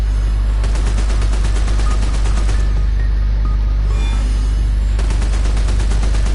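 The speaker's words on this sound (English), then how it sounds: "he's firing 2 miniguns" Two miniguns fire in a DC Universe video game, a loud, dense stream of rapid shots in sustained bursts that briefly drops away mid-clip before resuming at full intensity.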